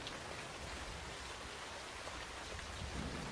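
Steady rain hisses evenly throughout, a dense, soft wash of falling water with no voices.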